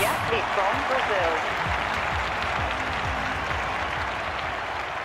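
A stadium crowd applauds and cheers at the men's triple jump in the London 2012 video game, a broad steady wash of clapping that slowly eases off while a commentator talks over it.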